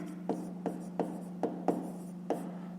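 Pen writing on paper during a 5th-grade maths exercise: six short scratchy strokes, evenly spaced, close up over a steady low hum.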